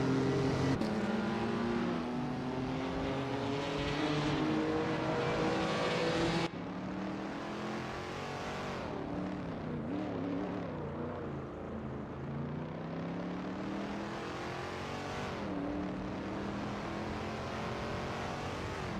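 Race cars in a video game race, including a 1973 BMW 2002 Turbo, roar continuously with rising and falling engine pitch as they accelerate and pass, with a sharp cut partway through.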